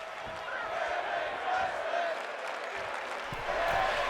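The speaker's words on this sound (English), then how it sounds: "you can just hear this crowd chant" A large crowd at a women's wrestling event roars steadily in a big arena, chanting "women's wrestling," voices blending into a continuous chant-like din with scattered shouts.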